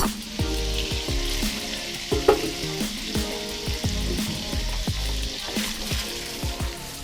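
Garlic frying in hot oil in a pan, a loud close sizzle with repeated clattering scrapes and knocks of a utensil stirring in a steady, uneven rhythm.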